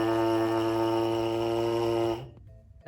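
Lips buzz into a trombone or baritone brass mouthpiece alone, making a steady close nasal drone for about two seconds that then stops abruptly, followed by brief quiet.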